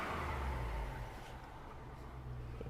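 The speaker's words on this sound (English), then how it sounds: "It is an LS2 under the hood." The GM LS2 V8 in a Saab Trailblazer revs with a deep, loud burble that swells at the start and then settles to a steadier rumble.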